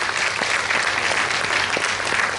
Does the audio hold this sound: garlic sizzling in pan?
no